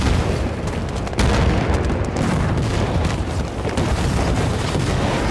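Air strike gun run in Battlefield Bad Company 2, a barrage of heavy booming explosions and cannon bursts rolling one after another, loud and dense with no pause, with no voices over it.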